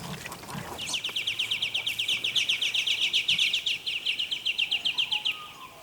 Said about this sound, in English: Noisy birds.